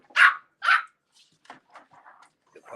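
French Bulldog puppies give two loud, close barks in quick succession, followed by a string of softer, shorter yips and whimpers.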